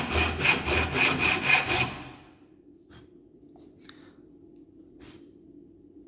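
Hand saw cutting through 6mm wood for a housing joint, rapid rhythmic back-and-forth strokes close up for about two seconds, then stopping, leaving quiet room tone with a couple of faint taps.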